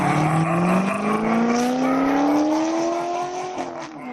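A powerful muscle car engine revving up in a steady rising whine over about four seconds, loud and close, then dropping back as it shifts.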